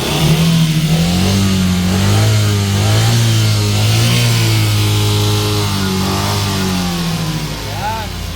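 A DA17V engine in a 4x2 tiptronic van is revved during a test, the close mid-pitched drone climbing and falling in repeated rises before easing off near the end, with a voice speaking over it.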